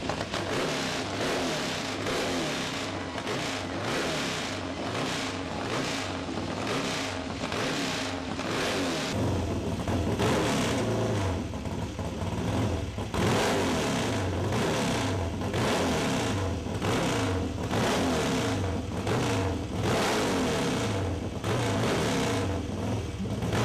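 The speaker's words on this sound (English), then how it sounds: "we're going to have my brother and his crew start up the bike" A motorcycle engine starts and revs repeatedly at an outdoor motorcycle rally, loud and near, with rising and falling throttle sweeps throughout and a steadier, heavier running note after the first few seconds.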